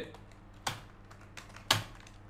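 Keys clack on a computer keyboard as a line of Java code is typed, with two distinct sharp strikes and a few softer taps over a quiet background hum.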